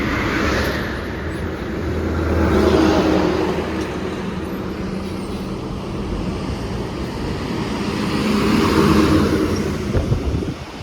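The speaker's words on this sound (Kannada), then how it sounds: "ನೋಡಿ ಟಾಟಾ ಗಾಡಿ ಬರುತ್ತೆ" Traffic rumble from a Tata vehicle approaching along JC Road in the early hours around 2:30 am, a steady broadband road noise swelling as it nears, with a second swell later, no talk.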